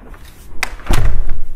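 A garage door in a Lennar model home in Estero, Florida, gives a sharp knock and then a loud, close heavy thud as it shuts, with a rumbling tail afterward.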